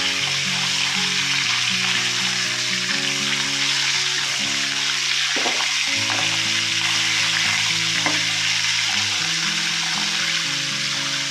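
Okra, eggs and dried fish frying in a pan for a curry give a steady, loud sizzle from start to end, with background music and a few scrapes of stirring.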